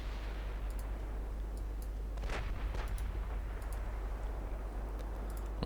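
Warship guns boom in the naval video game Ultimate Admiral Dreadnoughts, two distant heavy blasts rolling out over a steady low rumble of battle ambience.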